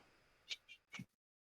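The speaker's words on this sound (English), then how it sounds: "You guys hear my cat in the background." A pet cat meows a few times in the background, short faint calls with a brief pause between them, heard alone.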